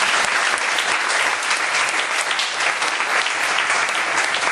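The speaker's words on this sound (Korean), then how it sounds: "우리 선생님들 열심히 하라고 박수 한번 쳐드릴게요." A church congregation claps for its teachers during an evening service, a loud, full and unbroken wave of many hands that fills the whole stretch without talk over it.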